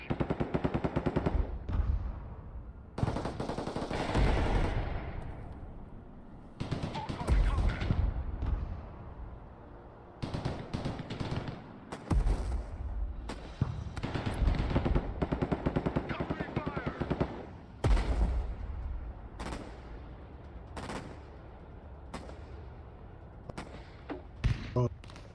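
Repeated heavy mortar and gunfire blasts from a military video game, with loud bursts spread across the whole stretch and dense firing in between.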